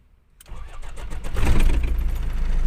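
A Kia Sportage engine cranks and catches after a silent start, then settles into a loud, rough idle that swells and stays steady. The vehicle is in for clutch lining and pressure plate work, and no one speaks.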